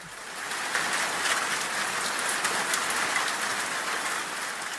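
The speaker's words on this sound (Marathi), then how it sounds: "पावसाचा जोर काय कमी होत नाही" Steady heavy rain pours down without a break, a dense hiss of drops pattering on a surface, loud and close.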